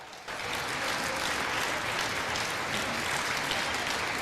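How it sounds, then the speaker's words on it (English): Applause erupts in the House chamber, a sudden dense burst of many people clapping that starts sharply and holds steady and loud throughout. "Now we got some applause."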